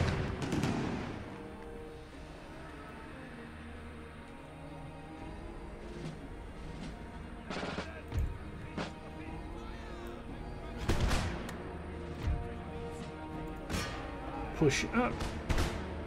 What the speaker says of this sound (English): Set the cannons to shot.